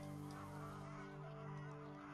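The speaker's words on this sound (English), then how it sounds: "that's just the sound of geese" Geese honking in the video game Stonehearth, a faint, steady layered gabble of calls running through the whole stretch with no voices over it.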